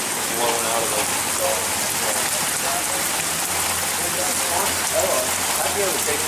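Floodwater in a town during a May 2014 flood in Tipp City, Ohio, a continuous broadband rushing and splashing like heavy rain on surfaces, steady and loud throughout with no clear speech.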